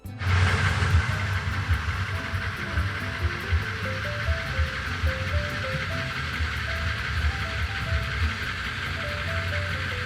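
A 2007 Skoda Fabia, checked for ignition misfires, idles with a steady, even engine and exhaust drone, continuous and fairly close, with a faint wavering tone running through it and no talk.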